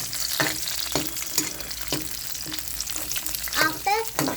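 Carrots and other vegetables for fried rice sizzling and frying in a pan, with steady hiss and repeated scraping stirs of a utensil, close and fairly loud with no talking.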